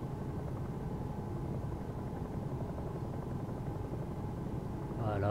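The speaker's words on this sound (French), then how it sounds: "Alors je vais essayer de stabiliser mon hélicoptère." Helicopter engine and rotor in the X-Plane flight simulator, holding a hover near 2000 feet: a steady, dense low drone that fills the whole clip at an even level, swelling slightly at the very end.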